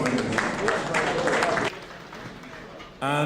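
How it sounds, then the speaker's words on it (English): Audience in Nigeria applauding a speaker at an automotive innovation youth event: brief dense clapping that cuts off abruptly into quieter room noise, followed by a voice starting to speak. "Round of applause for him."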